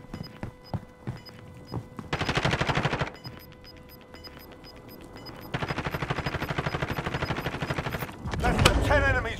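Automatic gunfire rattles in the Warzone video game, with two long rapid bursts separated by quieter stretches and a final heavy burst, loud and close, with in-game radio chatter.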